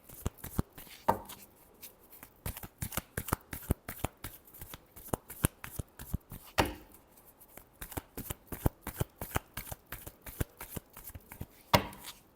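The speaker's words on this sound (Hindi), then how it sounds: "Last shuffle." Tarot cards being shuffled in a long, steady run of rapid crisp riffling snaps, close and fairly quiet, with a few sharper slaps as the deck is squared, and no talking.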